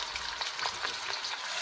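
Garlic and onion sauté in hot oil for Filipino chop suey, a steady close crackling sizzle with small stirring scrapes running throughout, no voices.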